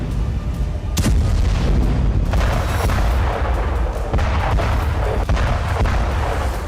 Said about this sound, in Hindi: कहीं आर्टिलरी शेल से यूक्रेनी सरजमी दहली